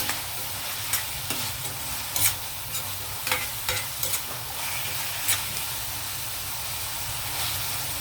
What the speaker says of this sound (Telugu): ఈ ఆనియన్తో పాటు రొయ్యలు కూడా వేగుతాయి.